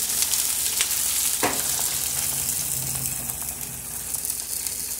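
Onion frying in sesame oil in a pan gives a steady close sizzle throughout, with a sharp clatter partway through and no voice.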